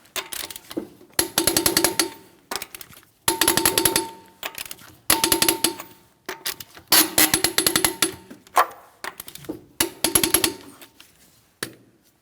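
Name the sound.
torque wrench tightening wheel lug nuts to 100 foot-pounds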